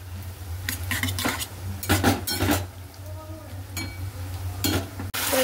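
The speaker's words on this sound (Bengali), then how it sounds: "তো এই যে মশলা সব দিয়ে কষাচ্ছি আর কি।" Spices with salt and turmeric stirred and fried in a pan, a close, busy run of metal spoon scrapes and clinks against the pan over a continuous low sizzle and hum.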